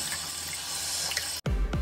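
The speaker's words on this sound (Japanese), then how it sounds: "まずはじめにね、洗ってください。" Tap water runs steadily into a sink while a daikon radish is washed beneath it, a constant hiss broken by a brief gap and then heavier splashing as the radish is handled.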